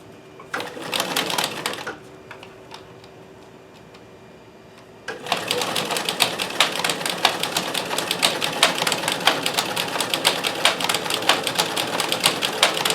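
A vintage sewing machine fitted with a 3D-printed stretch stitch cam stitches in a short burst, pauses for a quiet stretch with a faint hum, then runs loud and continuous with a fast, even mechanical clatter.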